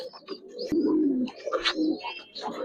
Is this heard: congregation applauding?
no